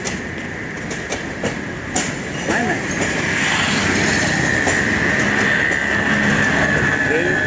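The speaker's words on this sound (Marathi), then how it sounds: "ट्रेन चालली आहे" A moving passenger train hauled by a WDM3D diesel locomotive, heard from on board as a constant loud rumble with rhythmic clickety-clack of wheels and a steady high whine, with voices faintly in the mix.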